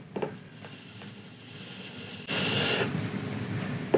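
A Japanese single-bevel hatchet blade is stroked along a hard wooden surface to finish the edge, giving a few faint scrapes and then one louder, longer rasping pass near the end.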